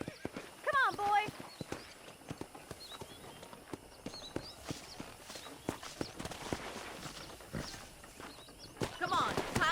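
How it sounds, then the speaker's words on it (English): Hooves clop at a steady walking pace in the Red Dead Redemption remake on PS5, with a brief horse whinny early on, moderately close under game dialogue and ambient sounds. "I picked out a fine horse for you."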